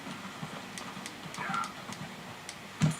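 Horse hooves clip-clop at a steady walking pace in Red Dead Redemption 2, fairly faint and close, with a louder thump near the end.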